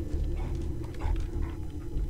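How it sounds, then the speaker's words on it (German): A dog companion in the video game Fallout 4 snuffles and sniffs around nearby, short breathy bursts over a low steady background rumble. "das Hundi hinter mir schnauft durch die Gegend"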